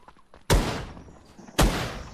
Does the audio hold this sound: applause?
no